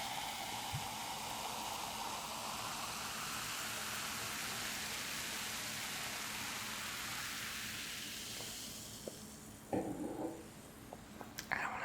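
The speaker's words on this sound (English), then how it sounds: "Maybe you can hear the fizzing." Freshly poured soda fizzing in a glass, a steady close hiss of bubbles that slowly fades, followed by a few faint clinks and taps.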